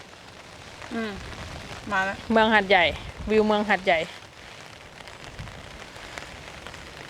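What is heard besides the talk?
heavy rain falling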